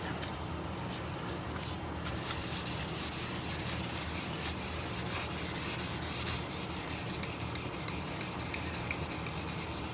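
Hand sanding wood with 600 grit sandpaper, a steady close rasping rub that keeps an even back-and-forth texture throughout, with no voices.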